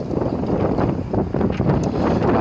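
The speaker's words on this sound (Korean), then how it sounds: "바람 소리가 아주 너무 거셉니다" Strong wind blowing hard outdoors during an open-air radio broadcast, a loud, continuous rushing roar with gusty surges buffeting the microphone throughout.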